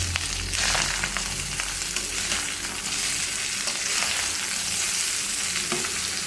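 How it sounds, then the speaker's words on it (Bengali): Fried rice with salt sizzles in a hot pan as it is stirred and tossed, a dense steady frying hiss with occasional scrapes and clinks, close and without speech. "এবার সুন্দর করে উল্টায় পাল্টায় নাড়াচাড়া দিব"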